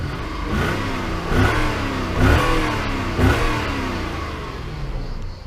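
A 4-litre Toyota Crown Majesta engine, warmed up, revs up in several loud bursts over a steady idle, each throttle blip rising and falling with no talking.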